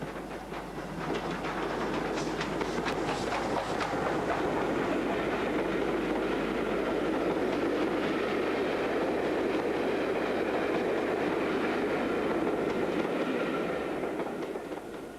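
A preserved steam express locomotive with a hot big-end bearing runs along the railway, a loud, sustained rumble with rhythmic clickety-clack of wheels and clanking, building and then fading slightly over fifteen seconds, with no talk.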